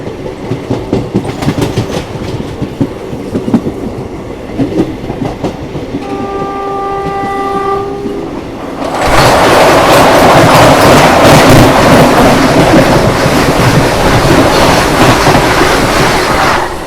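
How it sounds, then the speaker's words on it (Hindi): A Vande Bharat Express passing at high speed, heard first as rhythmic wheel clatter, then a sustained multi-tone horn, then a loud roaring rush of the train going by close at hand. "पीछे से तेज रफ्तार में आ रही है वंदे भारत एक्सप्रेस।"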